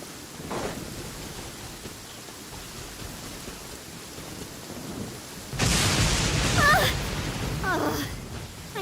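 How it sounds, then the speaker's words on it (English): Rain falls steadily in the Genshin Impact game, then a loud thunder crash breaks in past the midpoint and rolls on over the rain. "Raining again."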